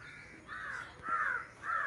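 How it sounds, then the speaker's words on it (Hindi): A crow caws three times in a slow series, each call harsh and clear, with faint background quiet between. "कौवा काँव काँव करते हुए"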